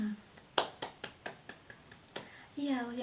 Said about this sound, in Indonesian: Silakan beri tepuk tangan untuk kelompoknya Mbak Rina.